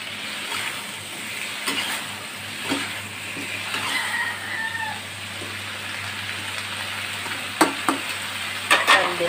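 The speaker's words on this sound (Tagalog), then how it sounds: "Dahil luto na itong broccoli at cauliflower natin, bisa-bisa na lang, paghaluin na lang natin." Cooked broccoli and cauliflower for chopsuey stirred in a pan over a steady sizzle, with occasional clacks of the utensil against the pan and a faint meow-like squeak, no voices.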